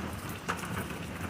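Steady rain falls at the end of a summer storm. It is a close, even hiss of drops on surfaces, with one slightly louder patter, and no voices.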